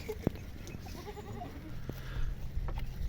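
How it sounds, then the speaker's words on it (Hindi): Goats on a farm with eight teddy goats, both small kids and two larger adults, bleat softly in short calls against faint background noise and scattered clicks, with no one talking. "ये 8 बकरियां हैं, इसमें छोटी भी हैं और 2 इनमें बड़ी भी हैं।"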